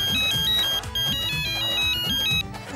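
A phone ringtone plays loudly in a repeating electronic pattern of high beeping tones over a background music bed, cycling steadily for the whole moment.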